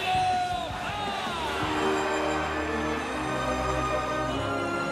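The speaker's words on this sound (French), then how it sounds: "Applaudissez notre nouveau champion" An audience at a Spider-Man film event applauds and cheers, a dense, steady wash of crowd noise that holds at a constant level throughout, with voices mixed into the roar.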